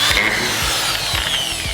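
Short repeated bursts of a power drill driving screws into the wooden frame of a mini quarter pipe, each whirring pulse followed by a brief pause, close and fairly quiet.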